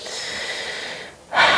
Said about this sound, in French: Et une dernière grande respiration ici